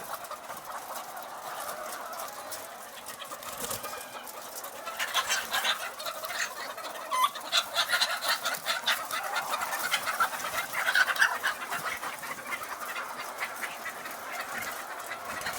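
Hens clucking in a poultry farm with cages, a dense chorus of many birds layered together, steady throughout with some louder calls standing out.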